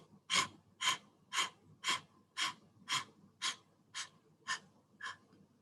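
A person imitates a dog panting as a theatre warm-up exercise, giving ten short, evenly spaced breathy pants in a steady rhythm, close and clear with no other voices.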